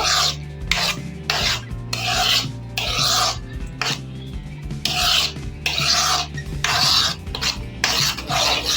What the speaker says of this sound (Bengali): এটা আমি নাড়িয়ে চাড়িয়ে আরেকটু গাঢ় করে নেব।